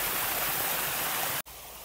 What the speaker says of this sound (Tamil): இந்த ஃபால்ஸ் வந்து சூப்பராக இருக்குது